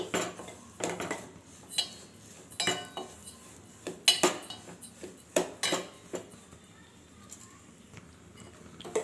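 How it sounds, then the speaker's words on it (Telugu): Wheat semolina roasts in melted ghee while a spoon scrapes and taps the pan in scattered, fairly quiet strokes, close up and with no one speaking. "ఇందులో ఈ గోధుమ రవ్వనైతే వేసుకొని వేయించుకోవాలి"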